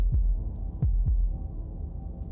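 Heartbeat effect from the video game Slay the Princess, a few deep, low thuds pulsing in quick succession over a steady dark hum.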